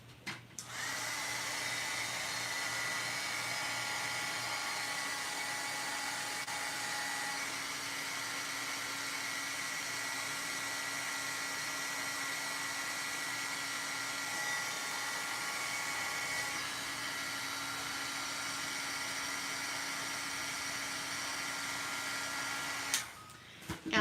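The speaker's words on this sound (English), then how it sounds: "And then I'm going to heat set it." A heat gun runs steadily for about twenty seconds while setting ink on a craft project, a loud continuous blowing whir with a faint electric whine that starts and cuts off abruptly.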